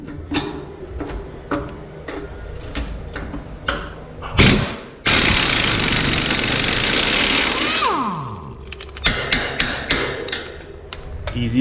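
A seized nut on a gooseneck trailer being hammered with a steady run of metallic blows, then a loud mechanical whir for several seconds before the rhythmic strikes resume.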